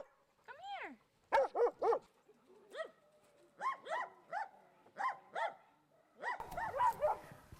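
Dogs at a five-acre rescue sanctuary barking in repeated bursts of two or three sharp barks with short pauses between them, fairly close, with a denser flurry of barking near the end.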